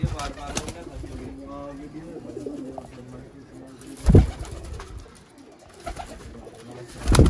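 Soft coos of chapray pigeons repeat in the background, with a few louder bursts of noise and some talking.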